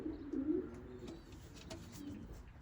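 Racing pigeons coo softly in a humid loft, a low throaty call rising near the start and again briefly later, quiet and close with no talk.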